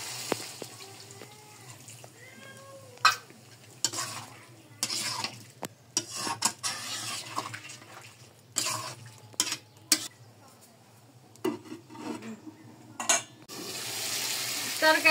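Desi chicken curry being sautéed and stirred in a pan, with scattered scrapes and clinks of a spoon against metal and soft sizzling, intermittent bursts over a quiet background, no talk.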